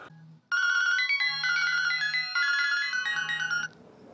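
A phone placing a call plays a loud, bright electronic ringtone melody for about three seconds. A low hum is heard before and after it.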